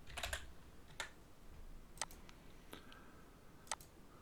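Keys on a computer keyboard are tapped in short, sparse bursts, a few quick clicks together and then pauses, close and fairly quiet in a still room.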